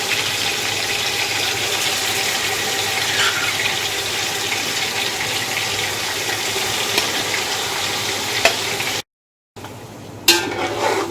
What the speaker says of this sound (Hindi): बस गोश्त को इसके साथ भून लेना है हमने